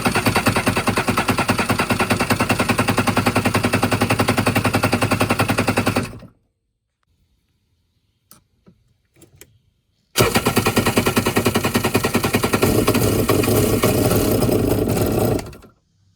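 An abandoned jet ski's two-stroke engine, fed starting fluid, cranks and runs in a loud rapid staccato burst, cuts to near silence with a few clicks, then fires again and runs hard for several seconds before stopping.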